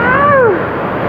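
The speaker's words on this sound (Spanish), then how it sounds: "Pues encontramos otra cascada adentro de la cueva." Water pours steadily inside a cave with a waterfall in Chiapas, a loud broadband rush close to the microphone with no talk over it.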